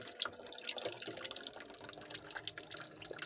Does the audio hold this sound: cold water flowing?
yes